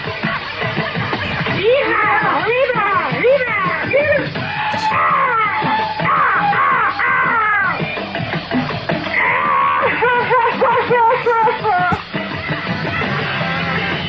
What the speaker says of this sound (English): Sorry about that yelling and screaming, but Pete and I are on a trip